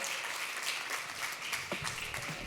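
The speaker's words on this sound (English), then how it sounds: "Give a big round of applause to Phillip Jackson, everybody." Steady audience applause for a speaker taking the stage at a commerce talk, a continuous dense patter of many hands clapping at even loudness throughout.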